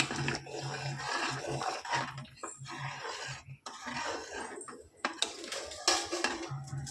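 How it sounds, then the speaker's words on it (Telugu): A spoon stirs garam masala and chilli powder through village-style chicken curry in a pan, making close, intermittent scraping and clattering against the metal with brief pauses between strokes. "దీన్ని ఉండలు కట్టకుండా చక్కగా మసాలా అంతా కలిసేలా ఒకసారి ఇలా కలుపుకొని"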